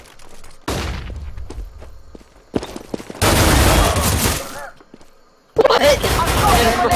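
M4 rifle fire in the online shooter CS:GO comes in loud, dense bursts of rapid shots separated by short quieter gaps with thuds and footsteps. A player talks in between.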